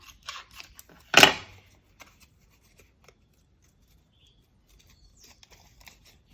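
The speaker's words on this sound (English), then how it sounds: "I'll just trim this to show you" Scissors snip once through a handmade faux vintage photo slide, a sharp close cut preceded by light rustling handling, then near silence with faint small taps.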